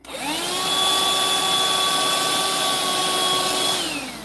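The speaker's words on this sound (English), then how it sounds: "The vacuum cleaner." A vacuum cleaner motor whirs up to a steady high whine, runs evenly for a few seconds, then starts to wind down at the end.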